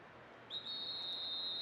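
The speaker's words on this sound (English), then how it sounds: "And you can hear the whistle." A referee's whistle sounds in Pro Evolution Soccer 6, one sustained high shrill blast starting about halfway through and holding to the end over a faint background hiss.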